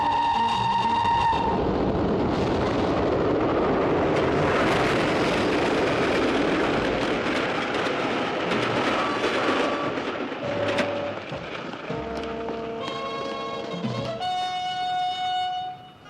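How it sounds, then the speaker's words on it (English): A train rumbles past loud and close with heavy roaring clatter, then fades as horn-like tones sound toward the end, with no talk over it. "Train coming."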